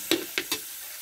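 Garlic hitting hot oil in a pan while cooking sisig, three quick hissing sizzle bursts in close succession, then a steady low frying hiss.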